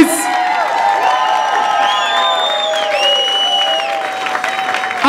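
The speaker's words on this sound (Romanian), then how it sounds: "aplauze pentru Vali de la office!" A crowd at a wellness club's fifth anniversary party claps and cheers loudly and continuously, with shouts and whoops mixed in over a steady wash of applause.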